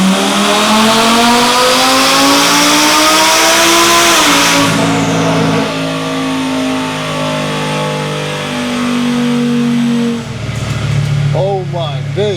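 A twin-turbo Audi R8 Spyder roars on a dyno, its engine climbing steadily in a long loud pull, then dropping back to a lower drone before a short burst of revving and tire-like whine near the end.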